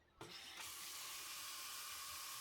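Water gushes steadily from a newly installed Moen Brecklyn kitchen faucet, a loud continuous hiss and splash that starts abruptly after a brief quiet moment and runs on alone.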